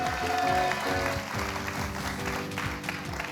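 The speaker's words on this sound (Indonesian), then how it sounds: "Tepuk tangan dong." A studio audience claps on a television variety show, a short burst of steady applause mixed with background music and faint voices.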